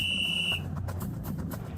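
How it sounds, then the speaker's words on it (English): A sustained, shrill whistle tone, likely a referee's whistle at a football game night broadcast, sounds loudly for about half a second before cutting off amid a low background rumble. "Until the final whistle blows."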